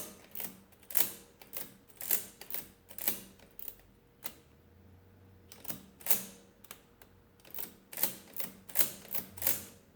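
Keys pressed on a Comptometer Model E mechanical calculator, a series of sharp, close mechanical clacks in irregular clusters with a short pause in the middle, loud against a quiet room.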